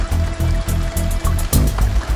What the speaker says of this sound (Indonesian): Hujan deras sekali, sungai meluap.